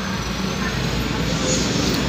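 Dense city traffic in Narayanganj produces a continuous broadband roar of engines and road noise, loud and unbroken throughout.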